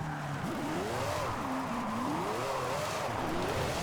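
A high-class mid-engine drift car slides sideways, its tires squealing in a loud, wavering whine that rises and falls over a steady engine roar.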